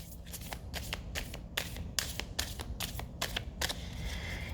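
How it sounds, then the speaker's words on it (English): Tarot cards being shuffled by hand, a run of crisp riffling bursts and soft slaps repeating close up, with no talking. "first we clear the cards"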